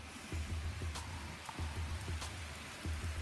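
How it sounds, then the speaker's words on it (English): Steady rain patters outdoors as a soft, continuous wash of drops with occasional louder taps close by, no voices over it. "it's just raining."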